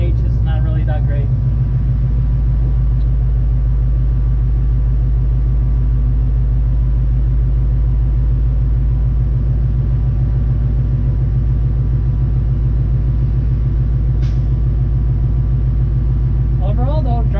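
A 1971 Dodge Challenger R/T, a barn find back on the road, drives down the street with a steady, deep engine rumble that holds low and constant throughout while someone talks over it.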